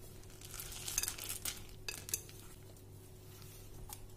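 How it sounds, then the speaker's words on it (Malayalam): A whisk stirs chocolate chips into vanilla cupcake batter in a bowl, giving soft, faint clinks and scrapes in a few brief bursts in a quiet room. "ഇനി 1/2 കപ്പ് ചോക്ലേറ്റ് ചിപ്സ് എടുത്തിട്ട് ഞാൻ ഇതിലേക്ക് ഇട്ട് കൊടുക്കാൻ പോവാണ്. അതിനുശേഷം 1 വിസ്ക് യൂസ് ചെയ്തിട്ട് ഒന്ന് ഇളക്കി കൊടുക്കാം."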